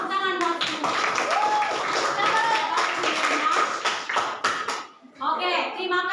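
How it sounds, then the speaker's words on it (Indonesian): Applause from a classroom of students fills the room, a dense steady patter of clapping with children's voices mixed in, easing briefly near the end before picking up again. "Tepuk tangan buat semua"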